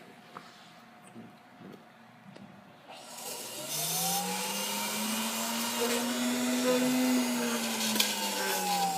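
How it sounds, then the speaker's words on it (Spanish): After a few seconds of near quiet, an electric mixer's motor kicks on and runs as a steady, close whirring drone that rises slightly in pitch. "Vamos a utilizar esta batidora, es una batidora que tiene 3 velocidades"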